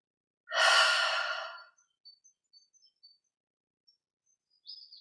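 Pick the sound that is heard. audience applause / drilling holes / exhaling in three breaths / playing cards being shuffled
exhaling in three breaths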